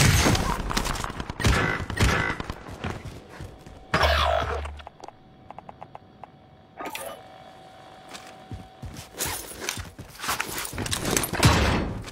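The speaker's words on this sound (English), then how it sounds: "I am getting sniped at." Video game gunfire, including sniper shots, arrives as loud close volleys, then a sparse pause with scattered single cracks, before heavy firing resumes and builds toward the end.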